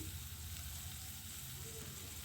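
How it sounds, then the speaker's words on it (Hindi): Mixed vegetables sizzle steadily in a hot pan for vegetable fried rice, a dense, even frying hiss that stays close and constant with no voices. "2 मिनट हो चुके हैं हमको सारी सब्जियों को फ्राई करते हुए।"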